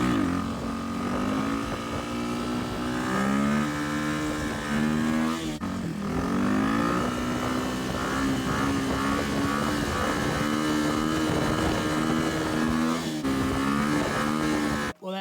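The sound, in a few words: chopper motorcycle on a shakedown ride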